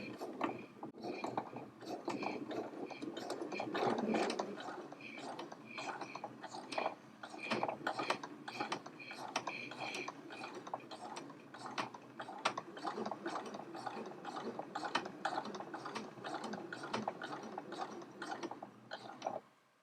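A domestic sewing machine stitches a hoodie seam with a 4mm stitch length, a steady mechanical whirring and ratcheting patter running close and continuously for most of the time, with no talk.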